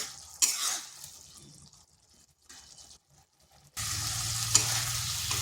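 Okra masala sautéed and stirred in a pan with steady sizzling, spatula scrapes and stirring clatter, quieter in the middle, then a louder, denser burst of frying near the end.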